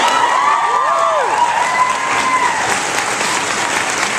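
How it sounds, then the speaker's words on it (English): An audience applauds at a lecture, with broad sustained clapping and some cheering throughout, a few raised voices rising briefly above the clapping. "Give it a clap."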